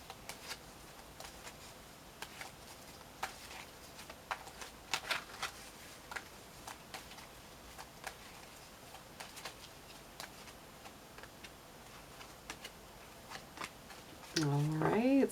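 Tarot cards being pulled and shuffled in a reading: faint, close, irregular papery flicks and slaps, brief and scattered across the stretch, with a voice starting to speak at the very end.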